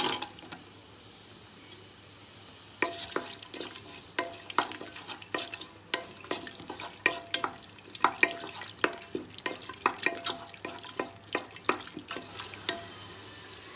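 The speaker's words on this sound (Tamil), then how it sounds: "இப்போ வெங்காயத்தை போட்டு நல்லா வதக்கிக்கோங்க" Onions sautéing in oil and ghee inside a pressure cooker with green chillies, stirred with a spoon; soft sizzle under repeated sharp scraping and clinking strokes in an uneven rhythm after a quiet opening.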